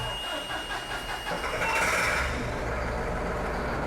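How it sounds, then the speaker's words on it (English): A tractor engine cranks and catches inside an enclosed shop, a steady rumbling drone that swells briefly midway and then settles into a loud, continuous idle. "So we'll go ahead and crank the tractor."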